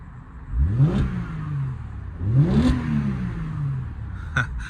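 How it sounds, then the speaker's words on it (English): Two quick blips of a 2005 Mercedes SLK's V6 engine, each rising sharply in pitch and settling back to idle, followed by a short clack near the end; close and clear with no talking. "Now let's give it a quick rev."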